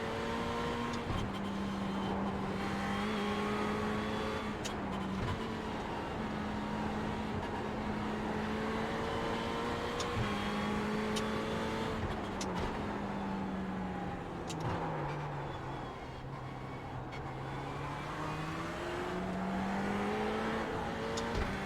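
Race car engine in iRacing, a steady sustained drone that holds a constant pitch, dips as the car slows and then climbs again, with faint clicks and gear shifts and no talking.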